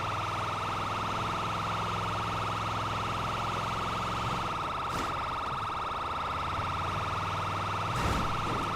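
Fire truck sirens wail continuously in the game GTA V FiveM during a roleplay firefighting response, a loud steady electronic siren tone held throughout with a couple of brief bursts.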